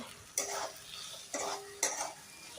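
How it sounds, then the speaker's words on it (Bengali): Masala paste being fried with salt for a vegetarian cauliflower korma, three distinct scrapes of a spoon against the pan over a soft sizzle, close but fairly quiet, and no one speaking. "বেরোয় ততক্ষণ আমি কষে নেব মশলাটা ভালো করে।"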